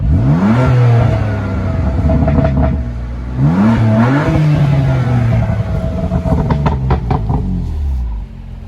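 A powerful BMW M3 engine revs hard in repeated rising bursts, loud and close, with a deep throaty exhaust note between pulls.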